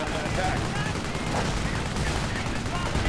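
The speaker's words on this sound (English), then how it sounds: "Under heavy machine gun fire, mortar fire." Heavy machine gun and mortar fire in a World War II strategy video game battle rattles densely and continuously at close range, loud throughout the short stretch.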